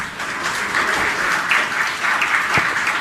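A crowd applauds at a religious discourse session, loud steady clapping swelling and holding for several seconds, up close with no voices on top.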